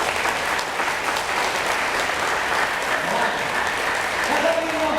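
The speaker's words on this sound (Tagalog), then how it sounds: "Palakpakan niyo nga po ang Diyos." A church congregation claps their hands in praise, a dense sustained round of applause filling the room with steady clapping, with faint voices mixed underneath.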